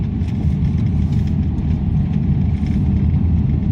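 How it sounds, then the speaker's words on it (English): Old pickup truck engine running steadily, a continuous low rumble heard from inside the cab throughout, with no talk. "pickup truck"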